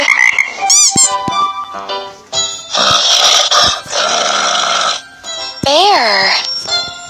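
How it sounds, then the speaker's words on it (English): Cartoon frog croaking in a children's animal learning song, bright repeated croaks with swooping tonal calls over busy music, loud and close. "F-R-O-G, frog"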